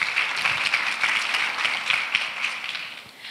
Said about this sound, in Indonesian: Tepuk tangan dulu untuk Pak ASEAN